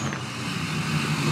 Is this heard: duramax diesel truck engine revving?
yes